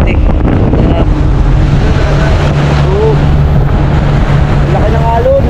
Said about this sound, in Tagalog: napakalakas pa rin ng alon, no, sa oras na to